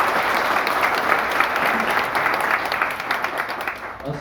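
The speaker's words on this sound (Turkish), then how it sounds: "Kendisini alkışlıyoruz." A crowd at an information meeting applauds Ümit Bey, a retired non-commissioned officer and southeast veteran, with dense, sustained clapping that holds steady throughout and thins slightly at the end.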